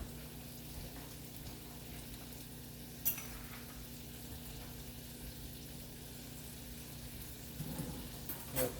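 Pork chops seasoned with salt, pepper and garlic fry in a pan, a steady low sizzle running throughout with a couple of faint clinks, no voices.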